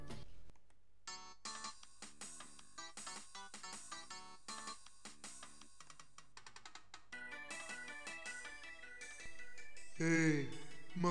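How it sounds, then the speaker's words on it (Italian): A mobile phone plays a bright, melodic electronic ringtone, a quick repeating tune of beeping notes that runs for several seconds before ending in a brief burst of louder tones. "Ehi, ma questo è il mio cellulare."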